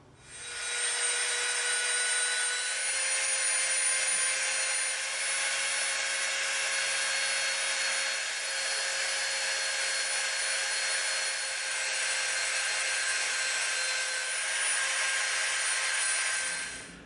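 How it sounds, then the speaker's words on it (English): A Dremel rotary tool bevels the edge of EVA foam for a Predator prop, a steady high-pitched whine running almost unbroken, close and loud, with slight dips as pressure changes. "now we're going to come in with our Dremel and we're going to bevel this edge all the way around"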